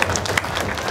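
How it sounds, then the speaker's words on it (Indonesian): Applause from a crowd gathered at a night event, a dense continuous patter of many hands clapping, fairly loud and close, heard without any talk over it. "Tepuk tangan buat semua yang hadir malam hari ini."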